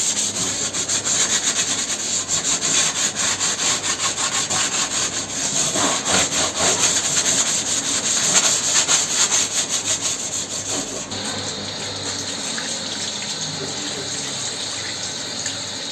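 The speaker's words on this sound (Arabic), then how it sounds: "قلعتها وبلشت بالفرك." A greasy grill grate, taken off the grill, is scrubbed hard in repeated rhythmic strokes, loud and close, with water running alongside.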